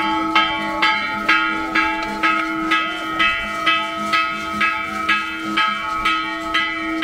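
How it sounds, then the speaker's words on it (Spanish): A church bell at a Señor de la Misericordia festival in San Juan del Meco, Ciudad del Maíz, San Luis Potosí, rings in loud, close, evenly spaced clangs, each strike ringing on under the next. "Todo el día está trepado tocando la campana."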